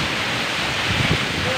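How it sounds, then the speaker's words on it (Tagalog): Busay Falls in Sorsogon roars as water pours down with strong pressure, a steady close-up hiss and rush mixed with wind-driven spray. "Yung pressure ng bagsak ng tubig"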